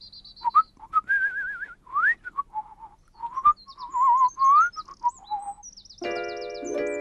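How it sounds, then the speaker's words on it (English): Melodic whistling alone, with bright sliding and warbling notes that rise and fall, somewhat birdlike, ending on a buzzier sustained tone. "Shall we try whistling?"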